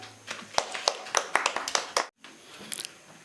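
Scattered handclaps from a small group at a Tamil Pongal debate event, close and uneven, break off abruptly, then a few more claps follow.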